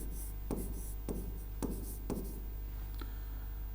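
A pen or chalk writing out a verse-metre formula by hand, four distinct scratchy strokes at roughly even intervals followed by a fainter fifth, close and quiet over a low steady hum.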